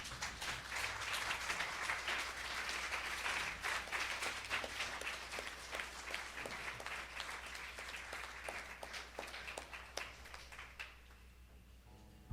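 A congregation applauds steadily for about eleven seconds during a Sunday church service, dense clapping that fades out near the end.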